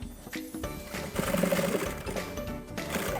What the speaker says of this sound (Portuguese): Vou passar uma costurinha aqui, pé de máquina.